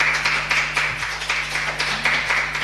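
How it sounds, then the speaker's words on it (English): Sparse, rhythmic clapping for a speaker at an online academic conference, a few distinct claps about every quarter second over a steady electronic hum, close and moderately loud. "So please have your virtual applause once again"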